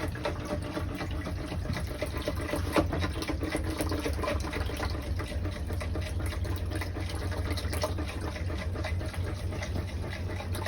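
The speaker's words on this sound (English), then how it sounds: "Our new bilge pump in action." A boat's bilge pump runs with a steady mechanical whir and rushing, splashing water continuously throughout, loud and close, no voices.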